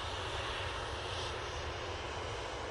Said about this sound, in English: there goes that 787 back off to Abu Dhabi